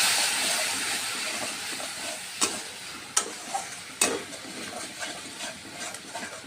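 Spices fry in oil for a prawn and jackfruit curry, giving a soft continuous sizzling hiss with scattered crackles and spatters, close up and with no voices.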